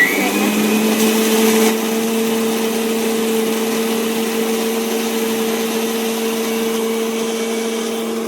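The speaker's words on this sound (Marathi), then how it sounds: "आता मिक्सरला फिरवायचं" Steady motor whine of a mixer grinder blending a milkshake, running continuously, loud and close, with a slight drop in intensity early on before settling into an even hum.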